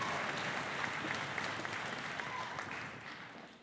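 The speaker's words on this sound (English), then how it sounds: "Let's give them all a giant round of applause" An audience at a combined school orchestras' spring concert claps continuously, a dense, fairly even round of applause that slowly tapers toward the end.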